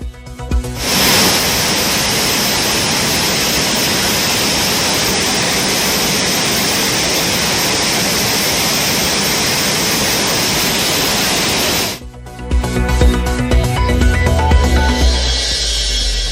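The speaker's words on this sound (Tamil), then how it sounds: "பேச்சிப்பாறை அணையிலிருந்து நீர் திறக்கப்பட்டதால் திற்பரப்பு அருவியில் வெள்ளப்பெருக்கு" A flooding waterfall, Thirparappu falls swollen after dam water was released, gives a loud, steady roar of rushing water that runs unbroken for about eleven seconds before cutting to quieter ambient sound.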